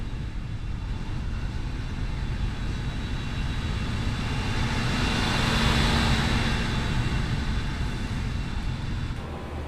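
Airbus A320 climbing out after takeoff from Athens, its jet engines roaring steadily and loudly inside the cabin, a broad continuous rush that swells slightly midway and holds without pause.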